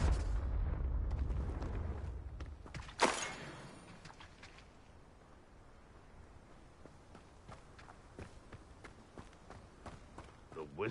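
Blasting spells from the Confringo charm in the wizarding game Hogwarts Legacy, a loud rumbling opening followed by a sharp burst, then scattered softer impacts and crackles amid quieter combat noise.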